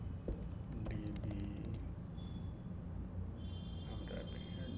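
Close, quick bursts of keyboard typing in a coding session rattle out in a short flurry and then stop, laid over a steady low hum, with no talking.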